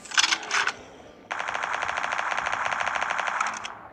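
Video game gunfire in Free Fire: a short rapid burst, a pause, then a longer sustained automatic volley, sharp and fairly loud with no talk.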